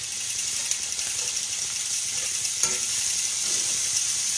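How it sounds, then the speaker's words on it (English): Hamburger steak pieces sizzle and fry in a pan as they are stirred, a steady bright crackle with a few soft scraping clicks of the utensil, fairly close and without speech. "I'm going to just stir these around just a little bit and get them kind of sort of tender."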